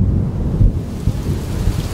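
A thunderstorm over the Flemish village of Steenvoorde, with a steady wash of rain and low rumbling thunder throughout, no voices.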